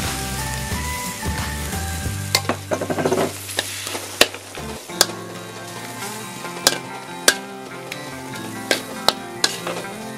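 Vegetables stir-fried for pad thai with rice noodles sizzle steadily in a pan, while sharp utensil clacks and scrapes come at irregular moments and a low hum fades out early, with no voices.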